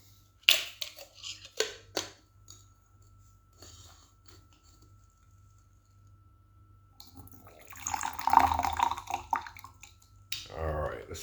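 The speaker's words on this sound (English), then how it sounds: "do quick rinse just to kind of wake these leaves up" Oriental Beauty oolong leaves from Longtan, Taiwan, get a quick water rinse: after a few light clicks of teaware, a short, close burst of pouring and splashing water rises and fades within about two seconds.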